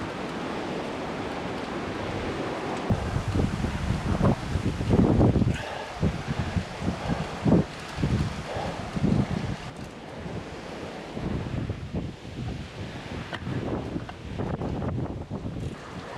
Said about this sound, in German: Der Wind bläst zwar immer noch stark, aber dafür jetzt wärmer.